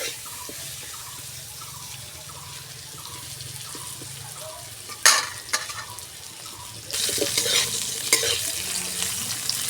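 Potatoes frying in oil in a village kitchen pan, a steady soft sizzle with occasional stirring scrapes, a sharp clatter midway, then a louder, brighter hiss for the last few seconds.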